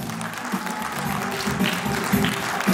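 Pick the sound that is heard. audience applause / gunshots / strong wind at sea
audience applause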